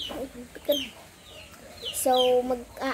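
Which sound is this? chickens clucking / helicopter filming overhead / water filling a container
chickens clucking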